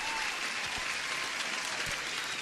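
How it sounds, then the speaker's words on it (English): Continuous applause from a crowd, a steady wash of clapping heard at a moderate distance. "And here's the applause."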